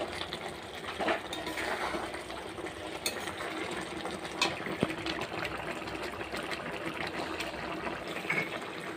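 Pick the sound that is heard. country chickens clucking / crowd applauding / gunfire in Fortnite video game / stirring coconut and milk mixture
stirring coconut and milk mixture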